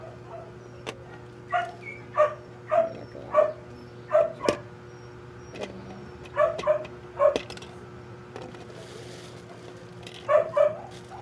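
A dog barks and yips repeatedly in short bursts, fairly close, with brief pauses between groups of barks and a steady background hum.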